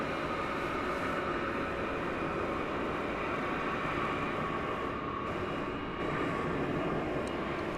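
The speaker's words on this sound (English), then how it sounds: "Another 757 is on its way." A Boeing 757 airliner at DFW Airport at night gives a steady, broadband jet engine roar that holds loud and unbroken throughout, with no voices over it.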